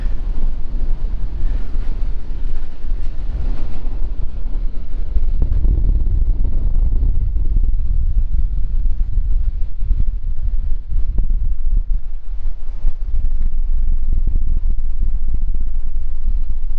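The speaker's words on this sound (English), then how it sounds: "Breezy up here." Strong, steady wind buffets the microphone on a coastal hilltop along the Lost Coast Trail, a continuous loud rumble with gusts and no talk.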